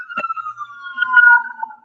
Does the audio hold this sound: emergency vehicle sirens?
yes